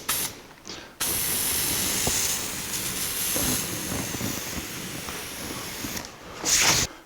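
A spray gun lays base coat paint onto a 1982 Jeep CJ7, delivering a steady close hiss in one long pass that starts abruptly after a short pause, with a brief louder burst near the end.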